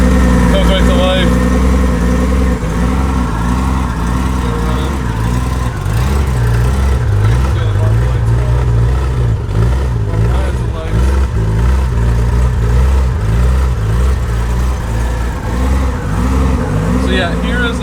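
A 1989 Honda GL1500/6 Goldwing with almost 67,000 miles idles steadily after starting, its smooth six-cylinder engine note holding a constant low hum close by throughout, with a voice talking over it.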